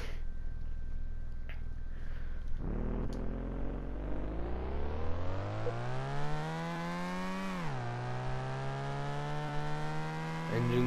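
A car engine in a car-building video game revs up steadily, climbing in pitch over several seconds, dipping briefly, then holding high again, loud and alone after a quiet idle start; the car is a Mazda RX-7 build.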